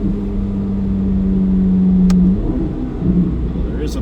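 Modified C8 Corvette Z06 with its exhaust valves open, heard from inside the cabin while accelerating onto a highway: a steady, loud engine drone holds for about two seconds, then shifts and roughens as the car pulls on.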